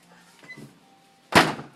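A door is shut indoors at home with one loud, close thud near the end, after faint rustling and soft movement sounds.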